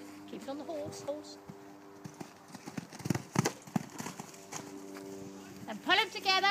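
A ridden horse's hooves clip-clop at a steady walking rhythm on a farm, close and clear, while a rider speaks over them.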